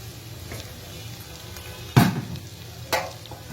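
Chopped carrots frying in a pan on a gas stove give a low, steady sizzle, broken by one sharp clatter of a utensil against the pan and a second lighter knock a second later, close by and without talk.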